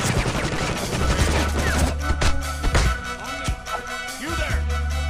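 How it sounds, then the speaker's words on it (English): Rapid bursts of gunfire in the video game Counter Spy crackle continuously, with dense overlapping shots and a few heavier impacts, loud and close. "Gunfire!"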